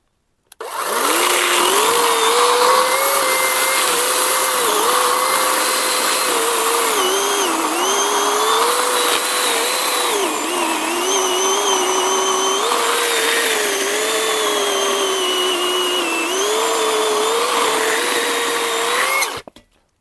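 A Grosser GCS 120SF cordless saw whines steadily while cutting, its motor pitch dipping and rising as it bites under load, loud and close, for about twenty seconds before cutting off.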